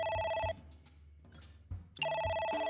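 Telephone ringing inside the video game AI: The Somnium Files: a bright electronic ring tone sounds, pauses for about a second and a half while soft chimes play, then rings again, loud and clear, with no one talking.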